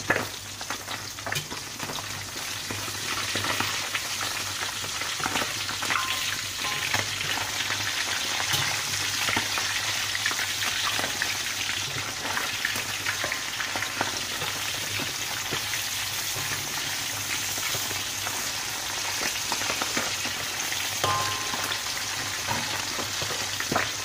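Continuous hissing sizzle of selayang fish (sardines) frying in hot oil, steady and close, with fine crackles and small pops throughout and no talking.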